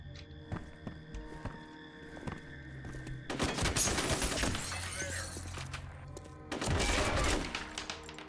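Loud automatic gunfire in the horror shooter F.E.A.R., with scattered shots followed by two sustained, crashing bursts that mix with shattering debris over a droning background.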